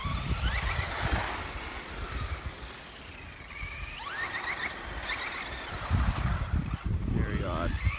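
Traxxas Slash 2WD LCG RC car with a Velineon ESC motor at full throttle: high whining motor pitch repeatedly sweeps up and surges in pulses, outdoors at moderate distance with gusty wind noise over the microphone.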